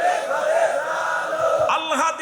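A large religious gathering roars a sustained collective takbir response, loud and unified for about two seconds before tapering into scattered voices.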